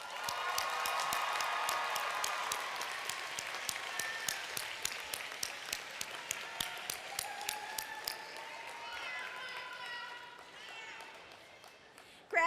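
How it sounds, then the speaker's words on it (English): Sustained round of applause at a Michigan Social Work spring commencement, as graduates clap for their family and friends; a broad, steady roar of many hands fills the hall, with sharp individual claps standing out and talk over it later. "Give them a huge round of applause."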